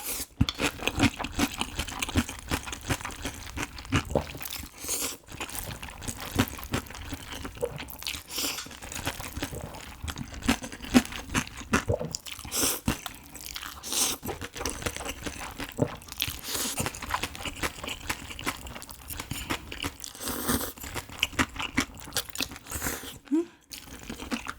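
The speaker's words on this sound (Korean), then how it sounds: "냉면 먼저 일단 기본으로 먹고 그 다음에 참기름 넣고 육수 넣어서 먹을게요." Close-up crunching and slurping of spicy bibim naengmyeon cold noodles mixed with sauce, steady chewing and biting sounds throughout, loud and near with brief pauses.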